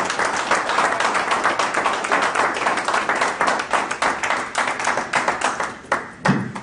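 An audience claps at an induction and investiture ceremony, sustained dense applause with a few sharper claps near the end.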